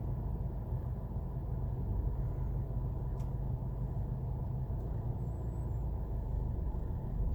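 A car engine hums low and steady from inside the cabin as a learner driver eases off the brake and applies a little power, a constant muffled rumble with no sharp changes.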